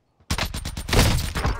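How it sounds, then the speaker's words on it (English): Rapid burst of nail gun fire in Call of Duty Warzone, a dense volley of sharp loud shots crowding together for over a second with no talk. "You can't stop the nail gun"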